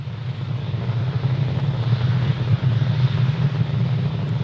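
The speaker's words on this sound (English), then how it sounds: "Falcon 9 has cleared the tower, and we're currently throttling down in preparation for max Q" Falcon 9 rocket climbing after liftoff from Florida, a steady, dense low roar and rumble that holds continuously without breaks, loud and sustained.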